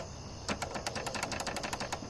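A click-modded Mitsumi KAM keyboard switch is pressed over and over, giving a fast run of sharp, loud clicks close to the ear, alone over a faint hiss.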